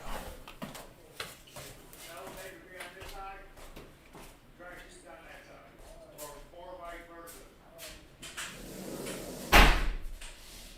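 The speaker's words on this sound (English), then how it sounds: "I gotta close this door." Someone talks for several seconds, then a door is shut with a single loud, close thud near the end.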